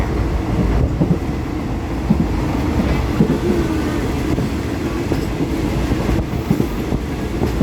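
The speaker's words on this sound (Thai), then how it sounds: "ตอนนี้อยู่บนรถไฟขบวนที่ 109 นะครับ กรุงเทพเชียงใหม่" Steady low rumble and rattling from inside a moving Bangkok–Chiang Mai train on double track, with rhythmic clacks of wheels over the rails and continuous carriage vibration.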